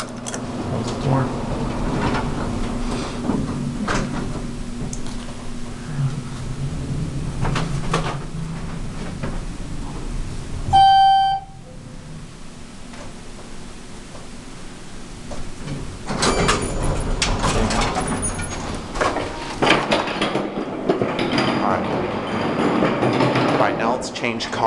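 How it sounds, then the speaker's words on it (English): An elevator door slides shut at the First Credit Union building in Chandler, Arizona, marked by a sharp chime midway, with the steady hum and rumble of the elevator car around it and voices speaking nearby. "Close the door."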